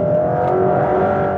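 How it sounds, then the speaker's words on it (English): A car entering a curve on a test track during a vehicle dynamics management demonstration: a steady, loud engine drone with a sustained tonal whine holds throughout, close and continuous, with no talk. "Yeah, the car comes into the curve ideally."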